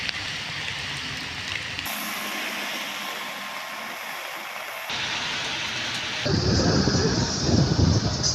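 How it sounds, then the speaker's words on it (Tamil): Heavy summer rain pours steadily with a deep rumble of thunder, loud and continuous, the wash of water shifting in intensity partway through and swelling into a harder downpour near the end. "காலை முதலே விட்டு விட்டு கனமழை பெய்தது"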